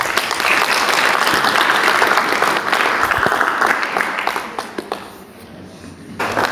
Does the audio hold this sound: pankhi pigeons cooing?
no